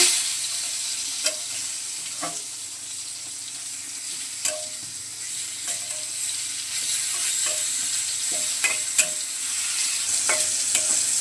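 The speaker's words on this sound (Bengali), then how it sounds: "বেগুনের এক পিঠ হয়ে গেছে, এখন উল্টে দিচ্ছি।" Steady oil sizzle as eggplant slices fry in a pan, with scattered clicks and scrapes of a utensil turning them over.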